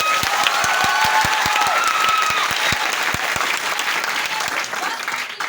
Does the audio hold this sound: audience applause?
yes